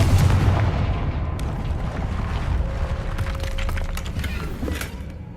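The Confringo blasting spell from the game Hogwarts Legacy breaks through a barrier with a loud rumbling blast, followed by crackling debris and splintering clatter that slowly fades.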